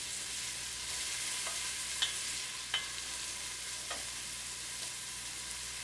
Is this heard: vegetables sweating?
yes